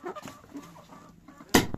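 Tame backyard hens give short, soft clucks close by, ending in one louder squawk, with no talk.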